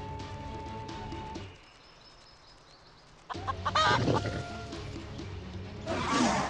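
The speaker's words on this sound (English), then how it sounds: "let's defeat the female chicken first" A chicken clucks in the video game Wildcraft, with clustered cackling bursts over game sounds, a quieter lull in the middle, then livelier squawks toward the end.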